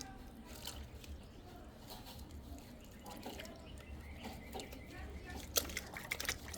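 The roots of a tropical hibiscus plant are dipped and washed in water, giving soft drips and sloshes. The sounds are faint and intermittent, and a voice talks quietly underneath them.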